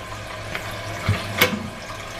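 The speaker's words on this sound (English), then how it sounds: "Okay, that's the light flush" A hotel toilet with two flush buttons gives its light flush, a short rush of running water after a button click in a Home2 Suites bathroom in Milwaukee, Wisconsin, heard alone and close.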